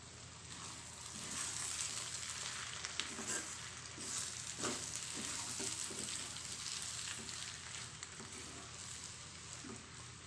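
Brinjal poriyal frying in oil in a pan, spiced with sambar powder: a continuous, close sizzle with occasional stirring scrapes and pops and no talking.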